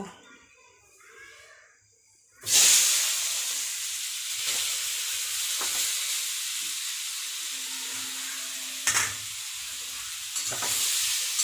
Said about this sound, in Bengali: এটাকে আমি একটু ভেজে নেব গাজরটাকে